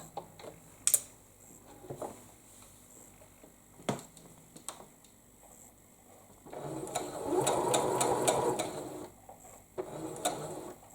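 A sewing machine stitches quilt pieces in short intermittent bursts with scattered clicks and taps between them, then runs steadily for a couple of seconds before stopping, close and moderately quiet.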